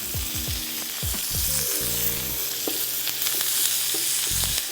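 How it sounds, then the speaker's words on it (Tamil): Chana dal and curry leaves fry in hot oil in a pan, giving a steady loud sizzle with stirring clatter, while low tonal music runs underneath. "ஸோ இது எல்லாத்தையும் நல்லா வறுத்துக்குவோம்."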